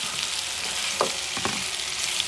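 Peppers and other vegetables sizzle steadily in a pan over medium heat, a continuous bright frying hiss with a couple of brief stirring scrapes, close and fairly loud, no voices.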